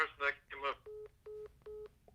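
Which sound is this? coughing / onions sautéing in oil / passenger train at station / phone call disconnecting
phone call disconnecting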